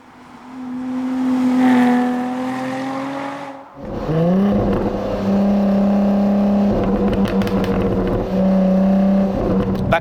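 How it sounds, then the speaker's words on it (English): Jaguar V6 engine revving hard with a loud, steady droning exhaust note, a brief lift then a rising pull, and faint crackles scattered over the top; no talk. "it still cracks and pops in a way that's frankly unbecoming of a Jaguar"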